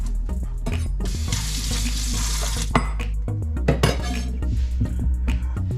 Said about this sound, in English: We're going to saute.